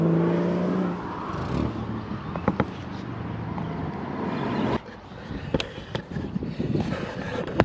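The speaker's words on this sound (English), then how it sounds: "Probably had 50 BMWs go by." BMW cars driving past a camper parked near a car meet, engines rising and fading as each passes at moderate distance, with a few sharp knocks and rattles close by between passes.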